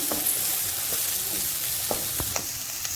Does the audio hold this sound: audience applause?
no